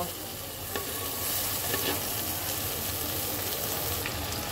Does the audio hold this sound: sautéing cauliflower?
yes